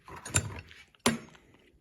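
A size 19 ratchet wrench gives two short bursts of clicks, close and fairly faint, with a quiet gap between them.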